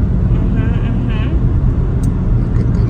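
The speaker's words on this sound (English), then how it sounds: "Reporting live from the taxi cab. Currently driving past Saunders Beach." A taxi cab cruising past Saunders Beach in the Bahamas, its cabin filled with a steady, loud low road-and-engine rumble that holds evenly throughout, with no clear breaks.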